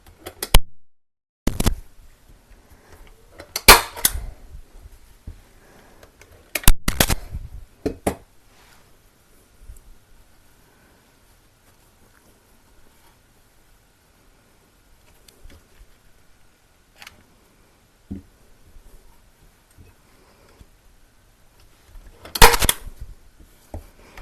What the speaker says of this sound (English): we will use the staple gun to keep it in place